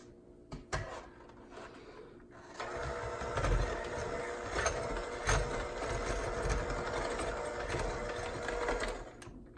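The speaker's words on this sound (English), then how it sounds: "then we can use our mixer on low to mix them all together." Electric hand mixer running on low speed, beating four icing ingredients together in a bowl; a steady continuous motor whir with rhythmic clattering holds from about the third second to the end after a few brief knocks, with no talking.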